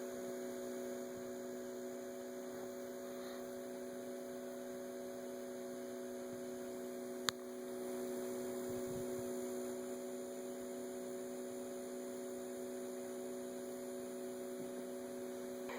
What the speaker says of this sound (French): la pompe est quand même assez silencieuse, sachant que là elle marche à fond.